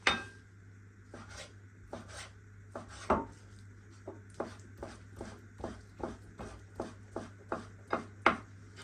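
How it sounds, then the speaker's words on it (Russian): A knife chops chicken breast into small cubes on a board in a steady series of soft thuds, about a dozen cuts spaced roughly evenly, quiet and close with a low hum behind. "мясо тоже нужно нарезать"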